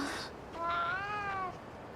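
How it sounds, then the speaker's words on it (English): A cat in the video game Monster Hunter Wilds lets out a single clear, drawn-out meow, close and fairly loud, preceded by a brief soft noise. "Cat noises."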